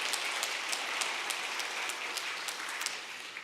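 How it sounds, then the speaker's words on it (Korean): Welcoming applause from a church congregation during a Sunday worship service, a continuous patter of many hands clapping at moderate distance, with sharper individual claps standing out in a regular pulse. "예, 한번 환영의 박수 드리겠습니다."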